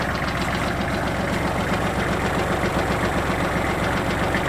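A Kubota GL21 tractor fitted with a front loader for snow clearing idles steadily up close, its diesel engine knocking in a dense, even rumble throughout, with no voices.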